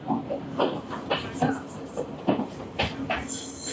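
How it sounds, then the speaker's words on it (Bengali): A Sri Lankan passenger train heard from inside a carriage: steady rumble and rattle with irregular clicks and knocks from the wheels, a brief high squeal near the end, all moderately loud and close. "এখন আছে ট্রেনে, দেখতে পাচ্ছেন আমাদের ট্রেনে চলতেছে ট্রেন"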